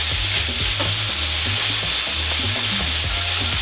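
Extra lean ground meat browning in a very hot pan for tacos, a steady loud sizzle with stirring and scraping throughout, close up and with no voices.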